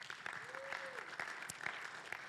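A church congregation applauds during a sermon, a faint, distant patter of clapping that runs through the short moment with a brief tone underneath.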